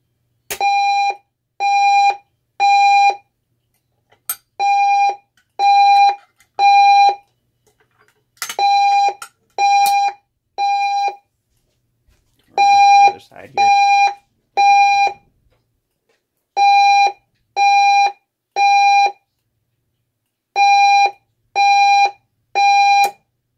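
Potter Fireguard 4000 fire alarm set off from a GE103-22 pull station, sounding loud electronic beeps in repeating bursts of three separated by short pauses, with no talking.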